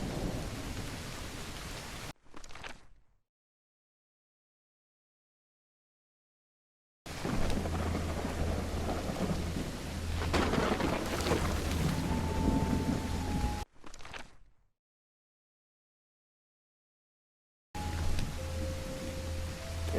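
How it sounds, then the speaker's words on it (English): Heavy rain pours and thunder rumbles in the horror video game Call of the Elder Gods, a loud, dense downpour with deep rolls of thunder, broken by stretches of complete silence. "It's raining cats and dogs here."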